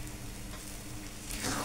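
Egg chutney (gabra) sizzling and frying in a pan while being stirred, a steady soft crackle that swells slightly louder toward the end, with no voices.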